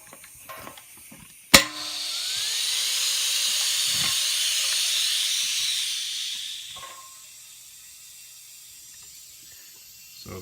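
A keg being pressurized with an air compressor during a pressure test with a spunding valve: a sharp click, then a steady loud hiss of air that holds for about five seconds and fades to quiet.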